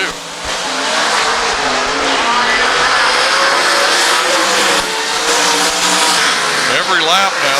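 Sprint race cars at an All Star dirt track race roar around the track in a constant loud engine drone with shifting pitch as cars pass, under a commentator's continuous talk.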